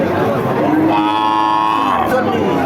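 A cow lets out a long, loud moo close by at a cattle market, with a busy background murmur of people.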